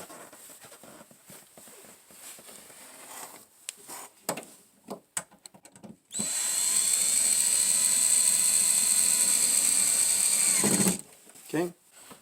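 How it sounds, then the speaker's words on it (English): A power drill drives screws into a door lock fitting, with short bursts and clicks of handling early on, then one steady whirring run lasting several seconds before stopping. "here I'm just going to use the drill"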